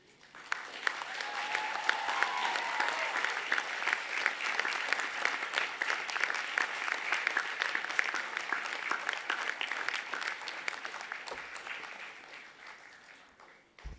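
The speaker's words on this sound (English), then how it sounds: "show them what a rousing round of applause should sound like" Graduates at a university graduation ceremony break into a rousing round of applause for their family and friends, clapping swelling in quickly, holding dense and steady, then tapering off near the end.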